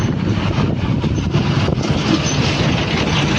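A train passing a railway crossing where the red warning light is on, heard as steady broadband rumbling and rolling noise throughout, loud and near, with no talk.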